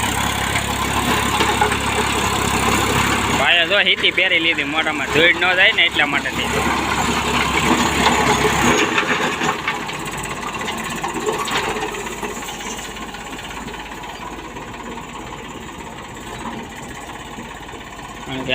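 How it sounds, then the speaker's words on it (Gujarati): A loud Eicher tractor engine, running with a rotavator, runs steadily with a churning mechanical clatter, someone talking over it throughout. "આઈસર છે એટલે એનો અવાજ બહુ આવે છે ટ્રેક્ટરનો"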